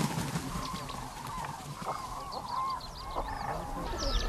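Common cranes wintering at Lake Tana in Ethiopia call repeatedly from a distance, with honking cries rising over a steady outdoor background.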